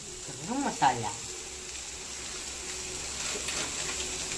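Onions fry with masala in a pan, giving a steady, soft sizzle throughout, with a brief voice near the start.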